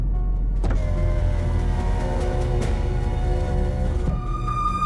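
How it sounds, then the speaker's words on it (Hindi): A car interior with a steady engine hum and road rumble throughout, plus a whirring electric motor of a power window, loud and close, with no talking. "रोको ड्राइवर गाड़ी रोको"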